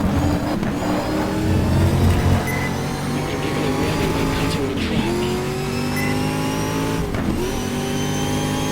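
A race car in the GTR2 sim racing game at Circuit Gilles Villeneuve drives hard, engine droning steadily with gear shifts and repeated tire squeals through corners, loud and continuous.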